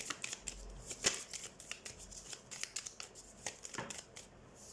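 Tarot cards shuffled by hand for a reading, a quick run of soft riffling flutters and snaps close to the listener, no voices.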